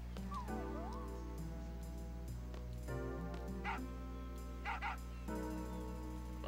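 A dog in the Final Fantasy 8 video game barks and yips in short repeated bursts over looping game music, with a brief whimpering sound early on.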